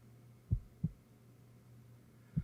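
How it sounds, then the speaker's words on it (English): Heartbeat sound effect in the video game To The Moon: three soft, low thumps, two close together and a third after a pause, over a quiet steady hum. "You can just hear the heartbeat."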